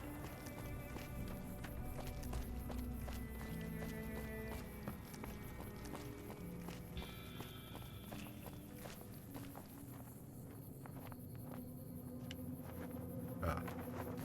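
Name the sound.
flag flapping in the wind, from a video game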